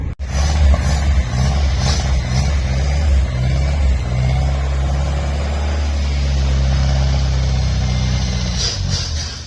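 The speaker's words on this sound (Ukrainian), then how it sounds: "машина заводиться, але бензина взагалі нема, того ми їдемо на заправочку" An old 1977 Honda Accord runs close by after starting, its low steady engine drone holding under the cabin with slight rises in revs, loud and continuous with no talk.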